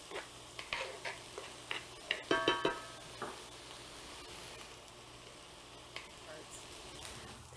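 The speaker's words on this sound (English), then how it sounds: "Now you want to saute your onions until they become nice and translucent." Onions sauté in a pan with a soft, low sizzle under a series of sharp utensil clicks and scrapes, most of them in the first few seconds, after which it settles into quiet frying.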